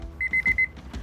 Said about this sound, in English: you can hear our chef's alarm right here going off